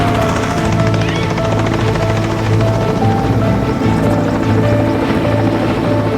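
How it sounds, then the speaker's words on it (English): A helicopter hovers loudly overhead, its rotor thudding in a steady, continuous beat with engine whine throughout. "The helicopter's hovering over him here."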